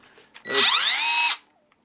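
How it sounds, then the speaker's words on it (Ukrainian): An Einhell TE-HD 18/12 Li cordless hammer drill spins up in a single short burst, a loud whining motor tone that rises in pitch, holds for under a second, then cuts off into silence, with a few faint clicks before it. "І він має функцію сверління з ударом і просто сверління"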